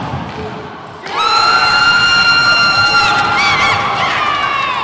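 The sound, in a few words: crowd cheering at a racquetball final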